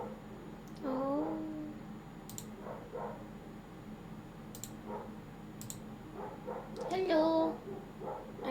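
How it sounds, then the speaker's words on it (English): A pet dog barks and yips indoors in a few short bursts with whimpering tones, fairly close, alongside faint clicking and a person's voice nearby. "My dog is barking."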